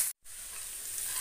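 Five sliced onions with a quarter spoon of salt fry in a pan for beef fry, making a steady, close hissing sizzle after a brief silent gap at the start, with no talk.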